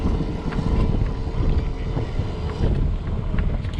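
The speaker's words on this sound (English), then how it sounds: "Problem is, it's a little windy" Wind gusts buffet the microphone on a boat out crabbing on New Jersey water, a continuous low, rough roar that rises and falls in waves with no voices.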